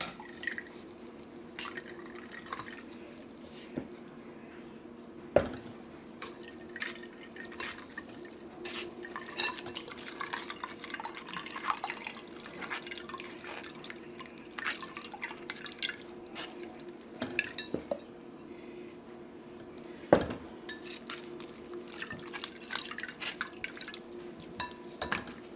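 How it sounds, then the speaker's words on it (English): A blended beetroot, ginger and date drink is strained, giving soft steady dripping and trickling liquid with occasional light clinks of a utensil against a bowl, quiet and close, no talking. "So we are going to strain our drink now."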